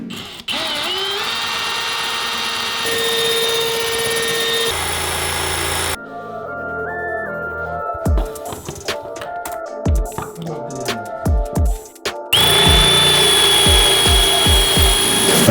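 Power drill boring holes into a floor to mount a grade IV gun safe, running steadily and fairly loud, with a stretch of clattering, knocking handling noise partway through before the drilling resumes.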